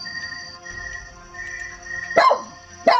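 A dog, belonging to the owner of the house, gives two sharp, fairly loud barks close by near the end, over a faint steady electronic hum.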